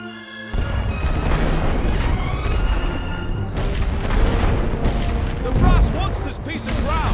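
Artillery barrage in the First World War video game The Great War: Western Front, a dense, continuous roll of booms and gunfire holding loud from start to end, with voices shouting over the bombardment.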